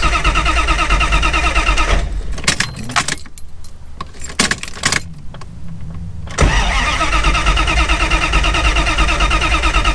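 Jeep ZJ with a V8 engine and five-speed swap runs loudly, then sputters and cuts out after running out of gas, leaving a few seconds of near silence with clicks and rattles before the engine noise returns strongly.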